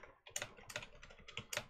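Quick bursts of keystrokes on a computer keyboard, clicking in an uneven rhythm of roughly a dozen taps, close and clear with no voices.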